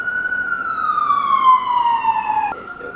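A loud emergency vehicle siren in New York City sweeps in a long descending wail, then cuts off abruptly near the end, leaving faint background noise.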